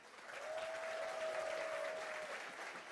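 Crowd applause at the ETHGlobal Tokyo hackathon opening ceremony, a broad, sustained roar of clapping from a large room that swells in and stays even, somewhat distant, with a thin steady tone running beneath it.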